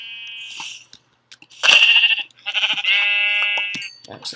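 Blocky Minecraft sheep in a survival world let out a couple of drawn-out, nasal bleats close by, separated by short gaps and game noises.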